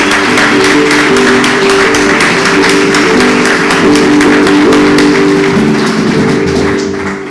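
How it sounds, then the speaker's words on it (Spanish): An audience gives the musicians a big round of applause at a Sephardic cultural concert. Loud, sustained clapping carries a regular, tapping rhythm over ongoing instrumental tones. "Así que yo quiero pedirle a todos ustedes que podamos darles un aplauso"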